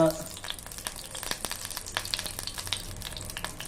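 Mustard seeds and asafoetida sizzling in a little hot oil, a soft crackling sizzle with scattered popping ticks and light stirring, close but fairly quiet, with no clear speech.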